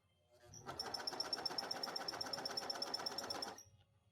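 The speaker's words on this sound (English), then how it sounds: "so we're sewing slow" A sewing machine runs slowly through neon ripstop nylon with a steady, close whirring hum and a fine rapid stitch rhythm, lasting about three seconds before stopping.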